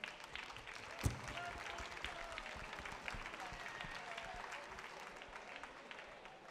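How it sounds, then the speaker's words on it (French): Audience applauding at the opening ceremony of the 24 Heures de Saint-Jo 2024, steady dense clapping from a crowd throughout, fairly faint and distant, with one sharper thump early on. "on peut l'applaudir"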